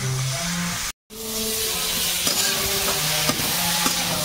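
Prawn curry with elephant foot yam sizzles steadily in a hot pan while being stirred in a village kitchen, a loud, close frying hiss with scraping strokes, briefly cut off near the start.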